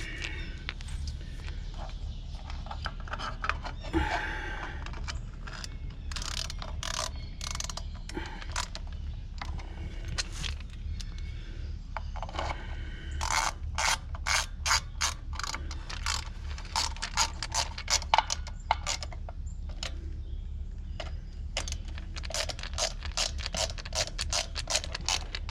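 Ratcheting screwdriver driving slightly longer screws to mount a 3D-printed low-voltage light fixture, giving rapid clicking bursts that come and go over a steady low hum, close by with no talking.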